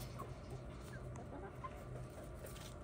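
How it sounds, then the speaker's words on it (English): Soft, scattered clucking from a rooster at a distance, faint against steady low background noise. "We just picked up a new rooster."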